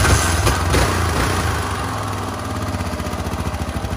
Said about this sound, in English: probably idling around 1200 RPM